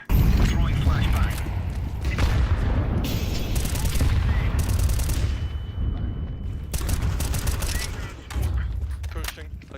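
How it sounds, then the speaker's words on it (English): Counter-Strike 2 combat with grenade and flashbang throws and a dense, continuous barrage of gunfire, loud and close, with bursts and booms overlapping throughout, mixed with game sounds. "Throwing fire. Grenade out. Throwing flashbang."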